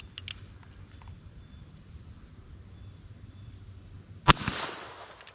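A single sharp, loud report from a Cimarron Model P Old Model .357 Magnum revolver loaded with light wadcutter rounds, fired outdoors after several seconds of quiet ambience and insect chirping.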